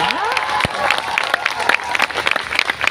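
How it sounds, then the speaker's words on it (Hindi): An audience in a hall applauding at a business event, a dense burst of clapping with some crowd noise and faint voices mixed in. "एक जोरदार तालियों के साथ"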